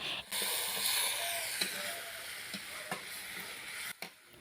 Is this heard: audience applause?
no